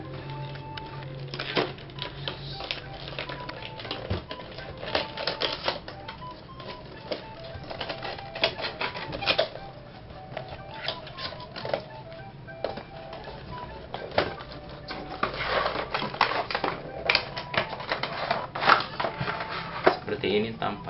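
The package of a Boya BY-MM1 microphone is opened with crinkling, rustling, and scattered plastic clicks, while a person talks throughout.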